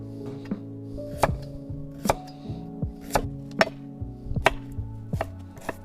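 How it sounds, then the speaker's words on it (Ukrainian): Sharp knife chops carrot and onion on a cutting board outdoors in an irregular rhythm, about a dozen crisp strikes over a steady background hum. "Далі нарізаю моркву і цибулю."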